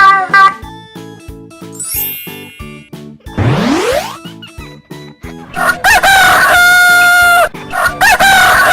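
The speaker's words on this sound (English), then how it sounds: "It's a rooster." Rooster crowing in a mystery animal sound quiz, a loud, close, drawn-out cock-a-doodle-doo standing alone, framed by short chiming jingles and a rising whoosh effect before it.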